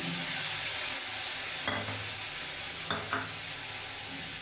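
Spice paste of cumin, onion, turmeric and Kashmiri chili sizzles steadily in a frying pan as water is added, with a few soft scraping stirs of the spoon and no voices.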